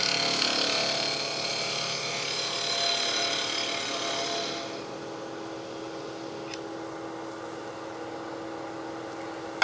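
Wood lathe turning a figured maple box with a skew chisel, a steady hissing cut for the first few seconds that then drops to a quieter whir as the tool eases off.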